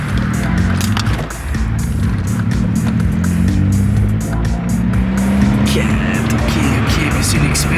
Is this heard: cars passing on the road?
yes